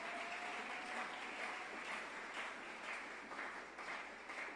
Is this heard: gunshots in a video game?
no